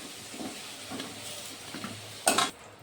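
Fried potatoes lifted out of hot oil in a Bengali home kitchen, a steady soft sizzle with faint scraping stirs, then a brief louder crackling burst near the end as the pieces leave the oil.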